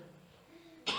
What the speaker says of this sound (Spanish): tosí 2 veces, no me pensé que iba a toser más